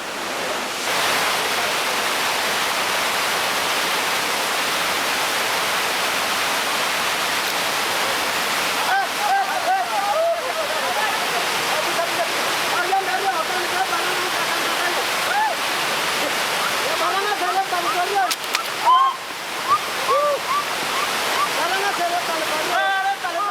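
A steady roar from a waterfall plunging 120 feet fills the whole stretch, a broad rushing wash with a voice speaking over it in places.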